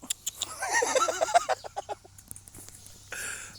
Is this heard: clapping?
no